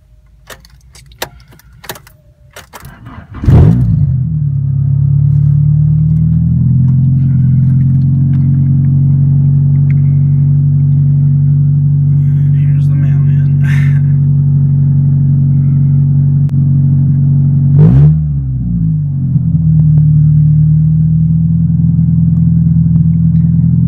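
A car engine cranks and catches after an EGR update, first a jangle of keys, then a strong steady idle hum up close, briefly revving mid-way before settling back to an even idle.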